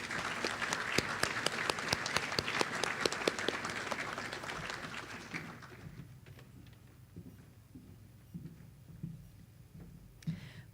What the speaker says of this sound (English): Please join me in a round of applause to thank these students for their leadership and service.